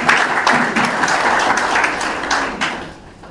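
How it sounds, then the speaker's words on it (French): An audience at a political speech by the president of Cadres Unis CAP 2020 in Côte d'Ivoire applauds, a loud burst of steady clapping that gradually fades toward the end. "Je pense qu'on peut l'applaudir."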